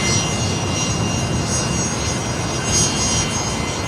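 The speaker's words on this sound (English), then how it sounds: "that's Velocity 1266 there. That just arrived from Emerald over on runway 19" Velocity airliner rolling on runway 19 at Brisbane Airport after arriving from Emerald, a steady broad engine roar heard from a distance, fairly constant throughout with a slight swell near the end.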